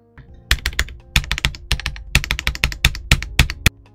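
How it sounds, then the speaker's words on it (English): Ajazz AKS068 "Alice" mechanical keyboard being typed on, rapid uneven clusters of crisp clacks with a faint metallic ping from the switches, close and loud without speech. "it's pinging inside of the switch itself, so it can be heard"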